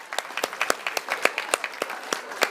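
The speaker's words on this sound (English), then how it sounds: "give them a round of applause, ladies and gentlemen, the show jumpers of the future" Applause at an equestrian awards dinner for young show jumpers, a modest scattering of individual claps from a smallish crowd, fairly quiet and irregular in rhythm.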